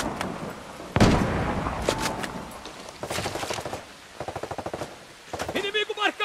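Video game gunfire in a Tom Clancy's Ghost Recon Breakpoint firefight: sharp shots, short automatic bursts and rattling volleys that come and go across the clip, some near and loud, with a small electronic beep near the end.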